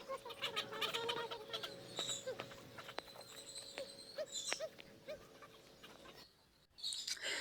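Ducks and moorhens bathing on a zoo lake in Multan, with scattered clucking and short bird calls at moderate distance over faint outdoor background noise.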